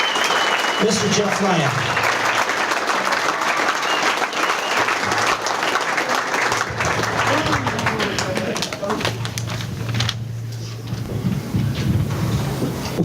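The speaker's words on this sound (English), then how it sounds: "A big round of applause for our head coach" A banquet audience applauds loudly for a Hall of Fame head coach being introduced, a dense sustained clatter of clapping that fills the room while a voice speaks over it.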